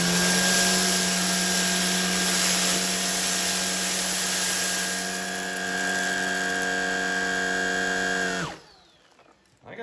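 A Shark Vertex DuoClean cordless vacuum picks up rice with a loud, steady motor whine that holds evenly for about eight seconds. It then cuts off abruptly, leaving near silence.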